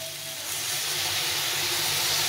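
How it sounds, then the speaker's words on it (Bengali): Mustard and poppy seed paste thinned with water hits a hot pan in a Bengali vegetable dish, giving a steady, fairly loud hiss and sizzle that swells slightly after the pour and holds without voices. "সেই সর্ষে পোস্ত জলটা দিয়ে দেবো"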